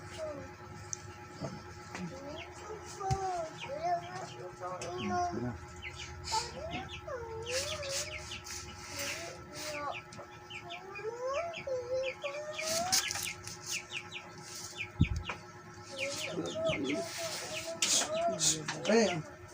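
Chickens clucking and chirping over a steady hum, with birds calling repeatedly and occasional sharp clacks, people talking faintly in the background.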